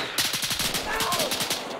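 Rapid bursts of automatic gunfire in the military shooter game Arma 3, crackling shot after shot in quick rhythm at moderate distance, with faint voices mixed underneath.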